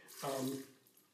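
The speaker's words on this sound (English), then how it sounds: "I will add a little bit of water just to start, not too much" A brief splash of water is poured into a blender of raw cashews to start a vegan cream, a short soft gurgle lasting under half a second in a quiet kitchen.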